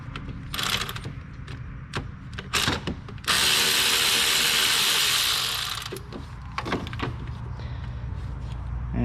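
Two 10mm bolts come out of a Kia Optima under the hood. A ratchet clicks in short rattling bursts, and a power tool spins in one sustained loud whir of a few seconds. Further clicks and clinks follow close by, with no talking.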